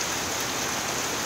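Steady, dense rain pouring down during a lightning storm in Southern California, an even, loud hiss of drops on surfaces with no pauses and no voices.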